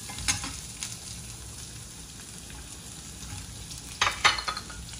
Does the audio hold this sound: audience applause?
no